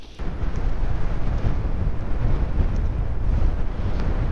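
Strong wind roars across a frozen lake in the Vermont wilderness, a dense steady rumble and buffeting against the microphone with no other sounds.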